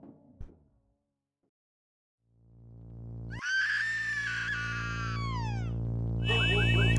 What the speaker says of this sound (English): The scream rushes throughout the house and the entire neighborhood.